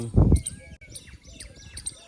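Sparrow chirps sound in short bursts at sunrise, over a low rumbling thump near the start and faint background activity.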